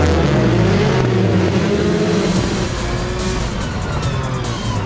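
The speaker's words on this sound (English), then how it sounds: "Off the line, a jumbled pack climbs the gears." A jumbled pack of race cars launches off the start line, engines roaring loudly and climbing through the gears in overlapping, continuous revving with no voices.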